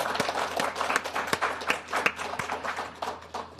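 Moderate, scattered applause from a forum audience at a congressional defense and foreign policy event, with distinct individual claps rising and falling over a few seconds at a middling distance.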